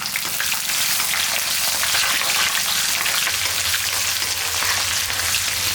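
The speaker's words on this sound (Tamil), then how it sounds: "வெங்காயம் இந்த அளவுக்கு வதங்கினா போதும்" Whole small onions sauté in oil for a tamarind curry, making a loud, dense, continuous sizzle that sounds almost like rain, with no one speaking.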